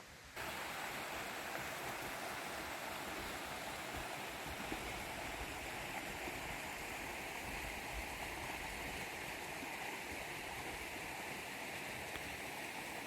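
A mountain brook beside a rock slide on a New Hampshire trail up the Tripyramids rushes in a steady, continuous wash of water noise, with no other sounds breaking through.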